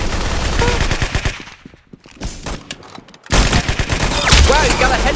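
Rapid gunfire in the Roblox shooter Arsenal, loud dense bursts and volleys at close range, dipping briefly before a heavy second barrage.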